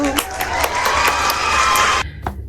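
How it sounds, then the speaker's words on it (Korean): A crowd cheers and claps loudly and continuously for about two seconds, with excited shouting mixed in, then the noise cuts off abruptly. "박수!"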